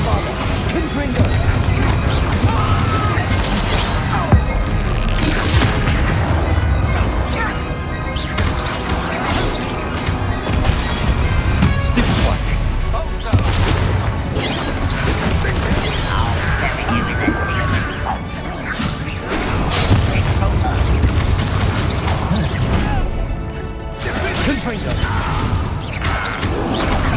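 Explosive spell blasts, Bombarda and Confringo, in the Hogwarts Legacy game crash and boom through a dense, continuous battle din of whooshes, impacts and effects, with shouted voices over the top.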